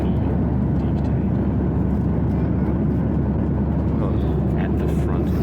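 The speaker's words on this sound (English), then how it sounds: "we're currently flying over Afghanistan in a plane" Steady, loud airplane cabin roar fills a flight over Afghanistan, a dense low engine rumble and airflow hum holding constant throughout.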